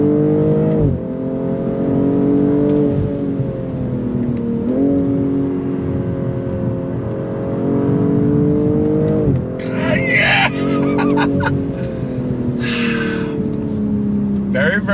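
A 2022 BMW M240i engine climbs hard through the rev range, its pitch rising and then dropping at each gear change, loud and close, with tire and road noise building toward the end.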